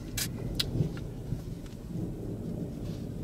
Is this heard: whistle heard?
no